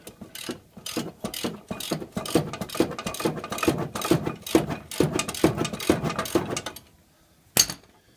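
A ratchet clicks in quick, steady strokes while a brake caliper bolt is loosened on a 2001 Ford Expedition during front brake pad work. The clicking stops near the end, followed by one sharp knock.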